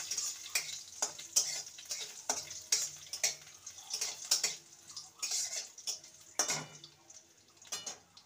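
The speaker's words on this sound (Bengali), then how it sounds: "ফোড়নটা ভালো করে ভাজা হয়ে গেছে।" Curry leaves fry in a tempering while a spoon stirs and scrapes the pan, making repeated clattering strokes over a soft crackling sizzle, close up and fairly quiet, with no talk.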